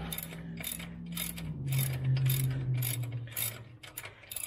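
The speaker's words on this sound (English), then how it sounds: "half-inch ratchet with an adapter down to 3/8." A half-inch ratchet with an adapter down to 3/8 clicking in quick repeated bursts as bolts are tightened during a power steering rack replacement on a 2000 Acura 3.2 TL, close and distinct over a low hum.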